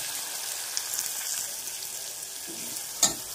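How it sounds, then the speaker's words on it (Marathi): Tomatoes and coriander frying in hot oil with browned garlic in a home kitchen, a steady soft sizzle with a light stirring clatter and a sharper pop near the end. "टोमॅटो आणि अर्धी कोथिंबीर, 2 मिनिटं चांगला मऊसूत होईपर्यंत टोमॅटो आपण फ्राय करणार आहे।"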